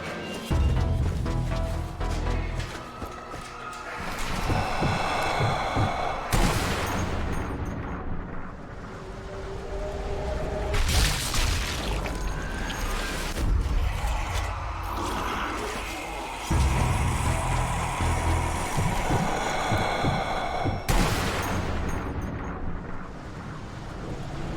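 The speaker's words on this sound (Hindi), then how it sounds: "लगातार 200 हेडशॉट हमने अभी इनके सर पे मारे हैं" Guns firing at zombies in Zombie Army Trilogy, with bursts of loud, booming shots and blasts separated by quieter stretches of game noise and mechanical clatter, no talking.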